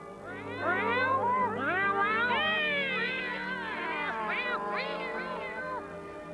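Cat meowing in an animated Christmas film alley scene, a string of drawn-out, wavering meows and yowls repeating closely, fairly loud and clear with no talking over them.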